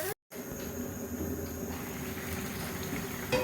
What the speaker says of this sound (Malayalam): ഇപ്പോൾ വെള്ളം തിളച്ചു തുടങ്ങിയിട്ടുണ്ട്.